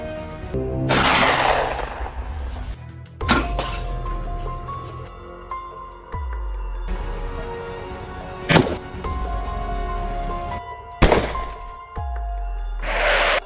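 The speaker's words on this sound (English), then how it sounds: "Waiting for the right second, the hunter squeezed the trigger." A hunter's rifle fires at wild boars on a farm, giving several sharp, loud gunshot cracks spread through the clip. Each shot is followed by rumbling echoes and other noises.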